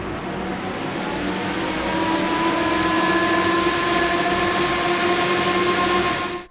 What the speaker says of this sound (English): That's what my new fans sound like